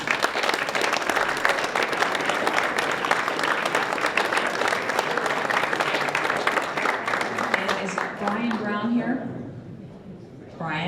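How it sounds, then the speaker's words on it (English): Sustained audience applause at a track and field centennial toast dinner, a thick, even wash of clapping for about eight seconds before it fades and a voice begins speaking. "another round of applause for Ken"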